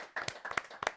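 A handful of people clapping in a television studio after a debate program segment, a short, sparse burst of individual claps close by.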